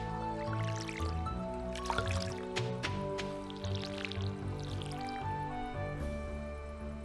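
Watering can filling with water in the Stardew Valley farming game, a steady trickling pour under a layer of background game music.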